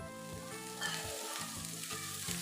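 Crispy bottle gourd dosa batter fries in a little oil on a hot griddle, giving a soft, close, crackling sizzle with faint scraping touches and no speech.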